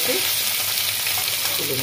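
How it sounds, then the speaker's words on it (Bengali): Chicken mince sizzling and frying hard in hot oil in a pan, a dense continuous crackle that fills the short moment, close and loud. "মাংসগুলো ভাজা হয়ে গেছে,"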